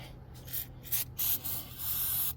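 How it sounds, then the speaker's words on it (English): Electronics cleaner sprayed from an aerosol can into a Boss V-plow electrical connector, coming as several short hissing bursts then one longer blast, close and fairly quiet with no talk. "But let me go ahead and spray this. This is just electronics cleaner."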